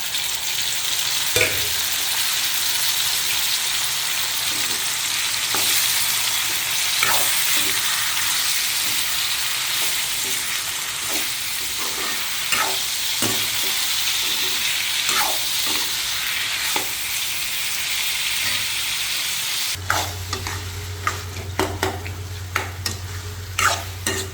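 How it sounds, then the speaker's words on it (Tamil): Onions, garlic and tomatoes sauté in a pan for a village-style dry fish curry, a dense, loud, steady sizzle with frequent spatula scrapes throughout, and a low hum entering near the end. "தக்காளி நல்லா வதங்கிடுச்சு."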